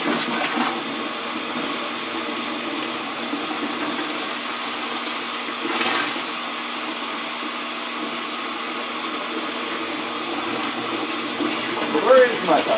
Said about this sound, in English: So go ahead and get my cold water going here. Top it up to our 5-gallon mark.